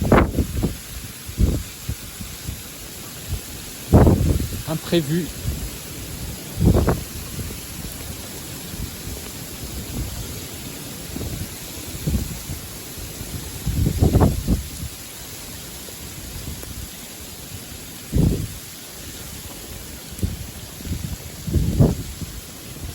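Hailstones pelt down in a surprise February hailstorm, a steady patter of impacts broken by repeated gusts and sharp bursts of wind and heavy strikes close to the microphone; a voice speaks briefly.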